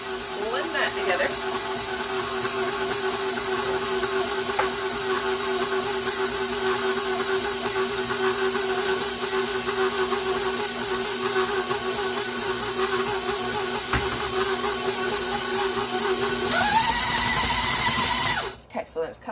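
Electric mixer whirring steadily through banana bread batter, a loud continuous drone with a high hiss, running nearly twenty seconds before pitching up and cutting off at the end.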